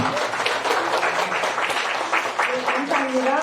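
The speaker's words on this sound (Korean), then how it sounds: "축하의 박수 한 번 더 부탁드립니다." Audience applause fills a church hall during an elder and deaconess ordination ceremony, a steady dense patter of clapping with some voices mixed in throughout.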